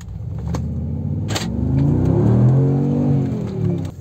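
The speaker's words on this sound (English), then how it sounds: "I will give throttle like by saying 1, 2, 3, and you will see the acceleration of this car" A Brabus-modified Mercedes G-Wagon accelerates hard under throttle, its engine note climbing loud and close as it revs up, holding a strong roar before easing slightly near the end.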